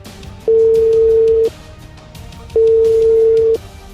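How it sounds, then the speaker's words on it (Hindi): Two long, steady ringback tones on an outgoing telephone call that goes unanswered, each lasting about a second with a one-second pause between them, loud and clear with no voices. "मगर मलिक फयाज ने फोन नहीं उठाया"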